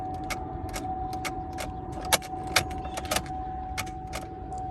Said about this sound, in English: I hear that click from the starter.